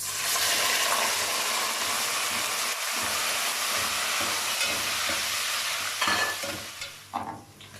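Beef sizzles loudly in a pan of golden fried onions for yakhni pulao, a dense continuous hiss with stirring scrapes and a brief dip near the end, with no talk.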